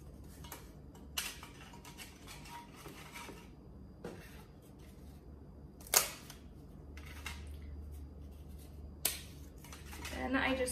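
Hard taco shells snapped in half by hand and set into a baking dish for a Mexican weeknight dinner, heard as a few sharp, crisp cracks spaced apart over a low, steady kitchen hum.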